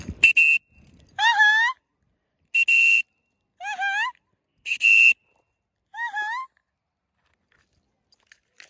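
A parrot at an outdoor free-flight meetup gives a series of clear whistles. Rising, swooping notes alternate with flat, steady tones in six or seven separate bursts with short silences between them.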